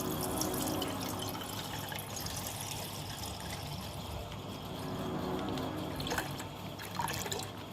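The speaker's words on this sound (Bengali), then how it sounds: "আমরা দুধটাকে এখন ঢালছি" Cow's milk pours in a soft, steady trickle close by, quiet and continuous with a few faint drips.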